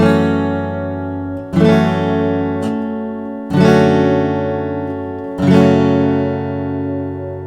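A guitar played with a capo rings out a slow phrase of strummed chords, four distinct attacks each left to sustain and fade, clear and close with no talk.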